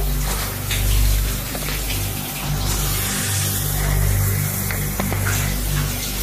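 Shower water runs steadily in a bathroom, a broad continuous spray with low rumbling resonance, close and fairly loud, with no talking over it.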